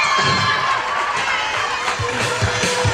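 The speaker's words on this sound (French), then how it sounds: "Sous vos applaudissements, s'il vous plaît" Crowd at a school year-end closing ceremony cheering and shouting, children's voices among them, with steady loud broadband noise of applause throughout.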